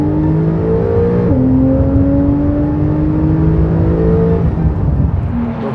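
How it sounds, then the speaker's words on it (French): A 2015 Porsche 911 Carrera S engine revving with its optional active exhaust flaps open, a loud, steady, close engine roar whose pitch rises and falls, with a distinct shift partway through. "Je vous la refais avec cet échappement à clapet ouvert."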